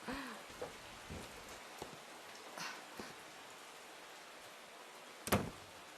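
Soft, steady rain patters in the background, broken by a few brief knocks and one louder clatter near the end.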